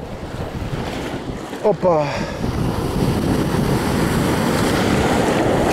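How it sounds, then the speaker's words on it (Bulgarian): Sea waves surging against a kayak paddled into rough water, with steady wind buffeting the microphone throughout; a short exclamation cuts in near the middle before the broadband wash and wind noise build slightly toward the end. "сега влизаме във вълнението навътре, срещу вълните"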